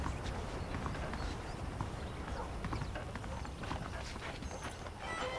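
Saddled horses walk in the Red Dead Redemption video game, their hooves clip-clopping in a steady, close rhythm over a faint background.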